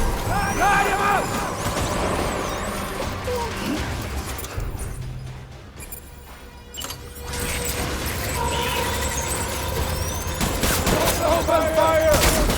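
Combat gunfire in Death Stranding Director's Cut, dense bursts and crashes against a thick game score, briefly thinning in the middle before the shooting swells loud again, with voices shouting over it.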